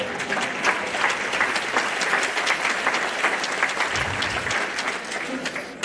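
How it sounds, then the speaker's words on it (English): Sustained audience applause, a dense steady wash of many hands clapping, fairly close and loud for the whole stretch, with a brief low rumble near the end and no clear talk. "This is why we clap for oaks."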